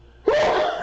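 A single sudden sneeze bursts out close by after a brief quiet moment, sharp and loud, trailing off quickly.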